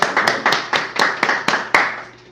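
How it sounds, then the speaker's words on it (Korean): Congregation clapping in unison during a Korean church worship service, about nine sharp rhythmic claps at a steady beat, fairly close, ending abruptly. "우리 하나님께 박수 한번 합니다."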